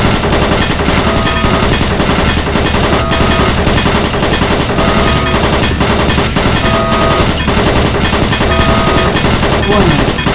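Automated turret guns in DOOM 3 fire continuously, a loud, dense rattle of rapid gunfire that never lets up across the whole stretch, with a synthetic warning voice faintly mixed in.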